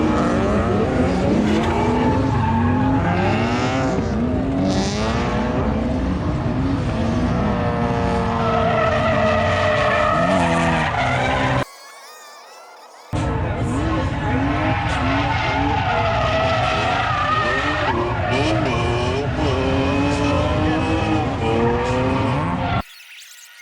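Drift cars at Thunderhill race track during a Good Luck League event, loud sustained tire squeal and skidding with engines revving and wailing in long sweeping slides, nearly continuous across two runs with a brief cut between.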